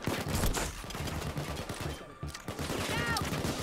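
Dense gunfire in the heist game Payday 2 during a shopping-mall robbery, rapid bursts and continuous automatic fire layered over one another, loud and close, with a voice briefly talking over the shooting.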